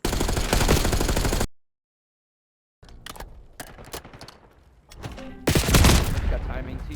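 Rapid automatic gunfire in a multiplayer shooter video game, loud dense bursts broken by a sudden silence, then scattered shots and another heavy volley, with players talking intermittently.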